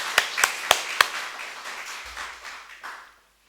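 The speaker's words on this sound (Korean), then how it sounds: "뜨거운 박수로 하나님께 영광을 올리겠습니다." A church congregation applauding after a choir hymn in a Korean service: a few sharp, distinct claps at first, then a softer, scattered patter that thins out and stops.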